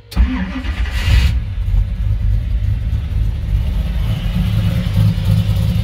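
1962 Corvette restomod with a ZZ6 V8 fired by push button, a brief starter whir, then the engine catching into a loud, deep, steady rumbling idle up close.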